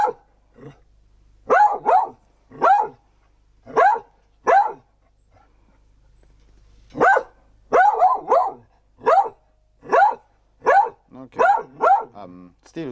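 A non-aggressive dog barks in a quick run of sharp, loud, close woofs, pauses for about two seconds, then resumes with a faster, denser series of barks.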